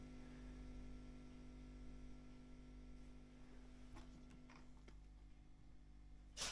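Mains hum from the transformer of a 1963-1964 Selmer Corvette vintage British guitar amplifier. It is a steady, low, faint buzzing drone that runs throughout, with a few small ticks and a brief rustle at the end.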